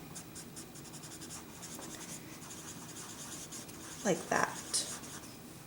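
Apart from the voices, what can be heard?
coloring pencil strokes feathering color on paper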